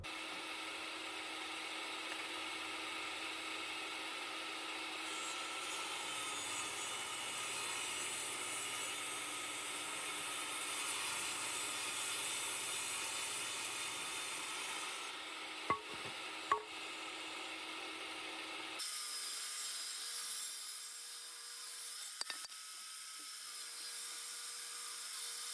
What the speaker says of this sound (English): it's time to go over to the table saw and rip stuff down to about 3 inches wide